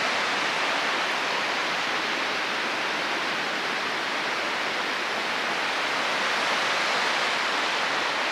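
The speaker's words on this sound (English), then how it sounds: "The waterfall's beautiful though." Steady broadband rush of a waterfall outdoors near a stream, a constant dense roar filling the whole clip with no breaks and no voices.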